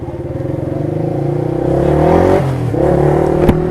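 A KTM Duke 200 motorcycle engine revs up close and loud, its pitch climbing and dipping in a steady throaty drone with a brief clatter near the end, no voices.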